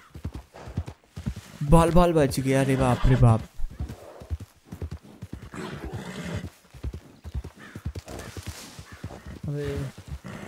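Red Dead Redemption 2 horse clip-clopping along with a loud whinny, the hoofbeats steady under excited talk and a second neigh near the end.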